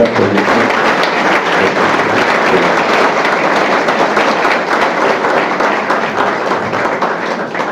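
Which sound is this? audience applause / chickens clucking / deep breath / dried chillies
audience applause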